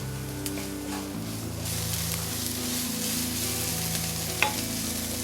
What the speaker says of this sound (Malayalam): ഇവിടെ ഉള്ളി വഴണ്ടുകൊണ്ടിരിക്കുകയാണ്.